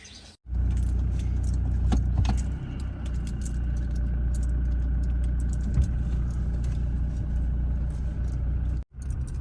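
A car engine runs steadily close by as the vehicle is driven off through a village, a low continuous rumble lasting about nine seconds with faint clinks, no one speaking.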